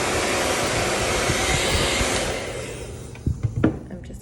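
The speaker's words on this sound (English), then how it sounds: "I'm sorry for the sound of the blow dryer." A blow dryer dries a freshly tinted brake light, giving a loud steady whoosh for about two seconds before it tapers off. A few faint clicks and knocks follow.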